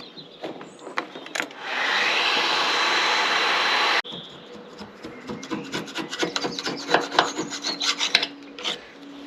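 A heat gun blows a steady loud hiss and roar while stripping lacquer off a wooden boat service panel, then cuts out and gives way to a rapid series of scraping rasps.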